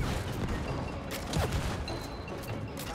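Gunfire in the co-op video game It Takes Two: a dense spray of shots and crackles over rumbling action noise, steady and moderately loud for a few seconds.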